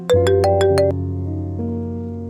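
A phone's melodic electronic ringtone plays a quick run of bright tones, then holds a sustained chord, loud and close.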